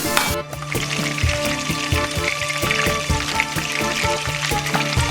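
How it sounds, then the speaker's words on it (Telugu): Pieces of korramenu (murrel) fish fry in hot oil for a curry, making a loud, continuous sizzle and crackle with occasional sharp pops and stirring clatter close by, and no talking. "ఇప్పుడు ఈ స్టేజ్లో చేప ముక్కలు వేసేయండి"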